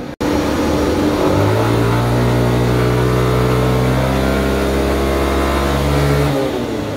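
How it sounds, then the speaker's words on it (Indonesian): Yamaha NMAX Turbo scooter engine revving on a dyno test, holding a loud, steady high rev for several seconds after a brief start, then dropping off abruptly near the end. "Nah, sekarang kita tes dyno si NMAX Turbo."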